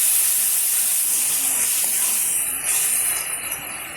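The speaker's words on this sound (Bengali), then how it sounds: "দেখো একটু ভালো করে নাড়াচাড়া করে নেবো কচু শাকটা।" Boiled taro leaves hitting hot oil in a wok, a loud, dense hissing sizzle that holds steady for several seconds with a brief dip near the end, no voices.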